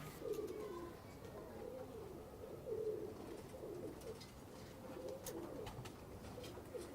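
Pigeons coo softly in repeated low, throaty phrases against quiet background noise, several calls spaced across the few seconds.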